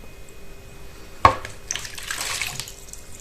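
Lukewarm water poured into a bowl for lagana bread dough, a sharp knock followed by a splashing, gurgling pour that swells and fades over a couple of seconds, with no voices.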